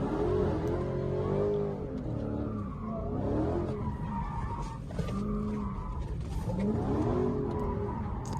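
A car skidding at a drag strip: tires squealing in rising and falling sweeps over a loud, steady engine roar, heard close with no talking.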